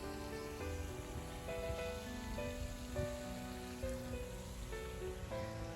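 Rain falling on a pond where ducks and geese swim, a soft steady patter, faint and even with no talk, along with a sustained tonal drone.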